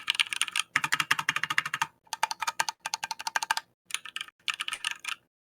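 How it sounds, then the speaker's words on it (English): Rapid bursts of keystrokes on a computer keyboard during a typing test, crisp close clicks in dense runs separated by brief pauses, with no voices. "I'll do a typing test afterwards"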